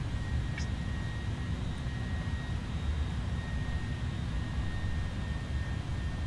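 A nearby aircraft takes off during a landing in Microsoft Flight Simulator 2024, a steady, loud engine roar that holds for the whole stretch with no talk over it.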